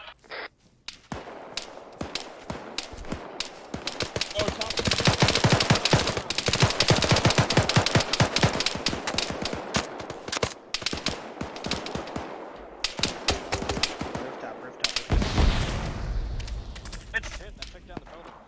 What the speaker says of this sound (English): that was 3 grenades in fucking succession